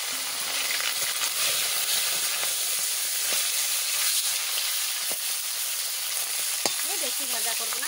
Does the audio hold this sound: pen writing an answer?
no